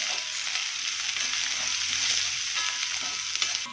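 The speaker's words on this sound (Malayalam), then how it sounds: "നമ്മൾ അരിഞ്ഞു വെച്ച ഉള്ളി ചേർത്ത് കൊടുക്കാം." Chopped onions sautéing in a pan with garlic for a macaroni pasta, a steady bright sizzle with light stirring scrapes, close and continuous with no talk.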